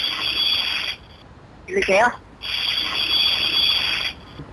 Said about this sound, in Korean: 녹음한 믹서 작동 소리를 연속해서 재생하고 있는 거랍니다